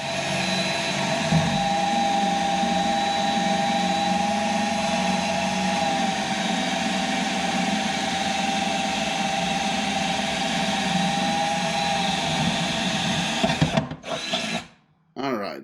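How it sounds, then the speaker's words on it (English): A power drill whirs steadily and close for a long stretch, drilling holes in the inside fender panel of a 2014 Jeep Wrangler JKU, with faint voices underneath, before the motor cuts off near the end. "here we are drilling the holes into the inside panel of the fender"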